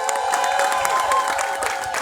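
Cheering and clapping from a comedy show audience, a dense crowd roar with whoops and rapid, even applause beneath it, loud and sustained for the whole moment.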